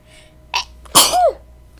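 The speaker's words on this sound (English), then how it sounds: "I just need to sneeze" Sneeze in the Genshin Impact game audio: a short sharp inhale, then one loud explosive sneeze with a trailing squeaky tail, standing alone against near silence.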